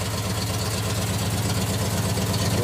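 A 390 engine paired with a C6 automatic, a light 1500 stall converter and a B&M Unimatic shifter idles steadily, its worn rings due for a rebuild; a constant low rumble holds throughout with no talk.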